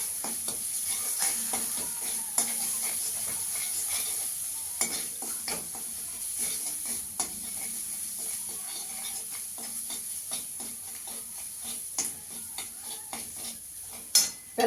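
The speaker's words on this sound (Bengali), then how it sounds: "ভালো করে মশলাটাকে কষিয়ে নেব।" A spice masala of turmeric and Kashmiri chilli powder is stir-fried in a pan. There is a steady hot sizzle, and a spatula scrapes and taps against the metal in a quick, irregular rhythm throughout.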